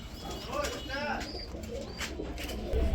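Soft, throaty cooing of pigeons at a pigeon sale repeats a few times close by, mixed with faint chirps and someone talking over them.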